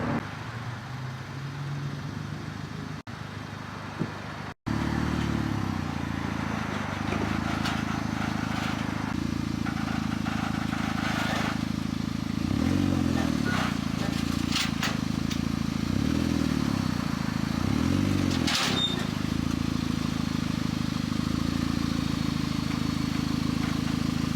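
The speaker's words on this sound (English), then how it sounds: "Now I gotta put my car on here in the meantime." A car engine idles and rumbles up close as the car is driven up onto a car trailer, with a few louder surging pulses, clattering and scraping along the way. After a brief dropout near the start, the drone continues steadily.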